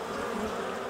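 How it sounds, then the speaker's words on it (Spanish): Honey bees swarm at a hive, thousands of worker bees droning in a dense, steady buzz that fills the whole moment at even, moderate loudness with no voices. "Son miles de abejas obreras, todas con una misma misión, trabajar duramente para transformar el néctar en delicada miel."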